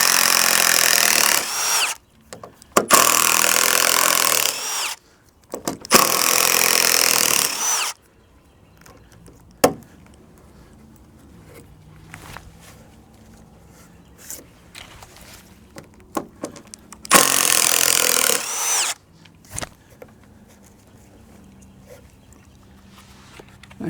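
A power drill drives screws into a wooden deck in loud, sustained whirring bursts, several in a row with pauses between, close up, with faint handling noise in the quieter gaps.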